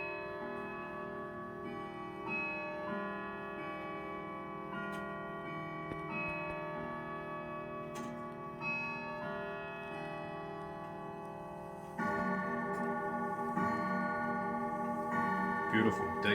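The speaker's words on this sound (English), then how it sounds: "So this is coming up to 10 o'clock in the evening. Clock's going to do its final chime." A clock at 10 o'clock in the evening ticks steadily and softly under quiet background noise, then rings a rich, sustained chime that swells louder near the end.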